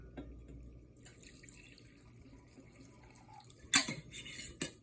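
Well water poured into a tincture jar of plant matter, a quiet trickle followed by a couple of louder splashing pours near the end, close and alone.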